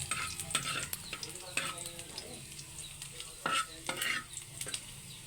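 Ginger sizzles softly in a pan while a utensil stirs and scrapes it, producing repeated clicks and scrapes over a low frying hiss; quiet overall with no talk.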